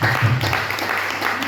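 A church congregation applauds the Lord during a French-language service, a dense, steady wash of clapping filling the short moment with no pauses.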